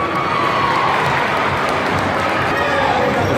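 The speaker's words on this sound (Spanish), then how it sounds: "del aplauso renovado para los campeones de la categoría" Sustained applause and crowd noise for the 2005-2006 category champions at a youth football tournament's Clausura 2017 award ceremony, steady and fairly loud, with voices over it throughout.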